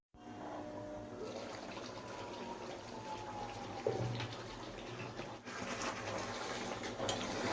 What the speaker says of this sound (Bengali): অল্প একটু জল দিচ্ছি দেখো একদম অল্প জল দেবো